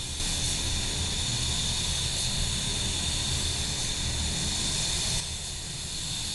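Spray gun applying a final, heavier clear coat to a white car's bumper, a loud, steady, close hiss that runs unbroken and drops slightly near the end.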